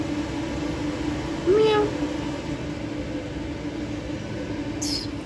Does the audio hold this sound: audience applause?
no